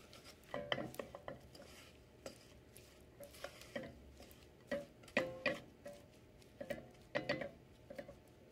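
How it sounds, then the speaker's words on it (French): Hazelnuts are stirred through syrup with a wooden spatula, giving a run of soft, irregular clicks and scrapes as the nuts knock against the pan, close and quiet with no talk. "on rajoute les noisettes et on mélange bien avec une spatule en bois pour bien enrober toutes les noisettes avec ce sirop"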